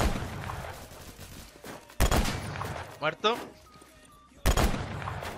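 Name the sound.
gunfire in the video game Phantom Forces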